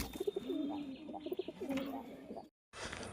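Pigeons at a home loft coo softly in low, rolling phrases, close but faint, with a few light chirps before a brief silence and a burst of background noise.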